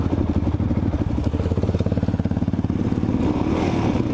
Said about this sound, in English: that is 3 gears of rolling burnout